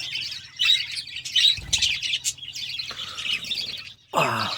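A pet bird, unwell with a winter cold, chirps in bright repeated tweets close by; near the end a brief rush of flapping wings is heard as it flies off.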